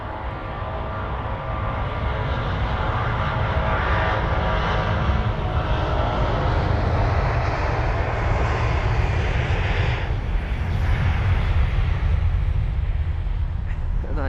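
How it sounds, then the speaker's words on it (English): A Boeing 777-200ER departs at full throttle, its engines producing a loud, sustained broadband roar that holds steady for the whole stretch, close and powerful, with no speech over it. "That 777 was not messing around. That was full throttle."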